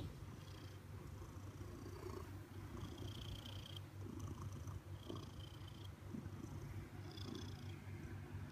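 A Maine Coon cat purrs steadily and closely for several seconds, a continuous low rumbling rhythm with no talking.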